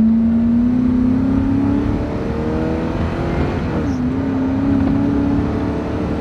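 A used pickup truck, originally rated at 300 horsepower, accelerates hard uphill with a loud, close engine drone that climbs in pitch, dips at a gear shift, then pulls again.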